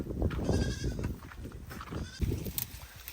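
Goats out in a field give several close bleats over a low, steady outdoor rumble. The calls come in quick succession and no clear talking is heard.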